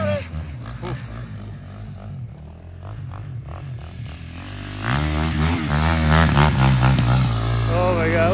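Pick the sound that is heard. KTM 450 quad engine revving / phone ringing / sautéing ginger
KTM 450 quad engine revving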